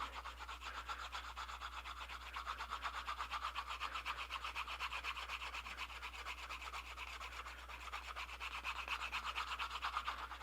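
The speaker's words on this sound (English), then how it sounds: "So I do that, and then I go in and start burnishing." Leather knife sheath edges being burnished by hand, a soft steady rubbing and rasping friction in quick repeated strokes, faint and close, continuing without pause over a low background hum, with no voices.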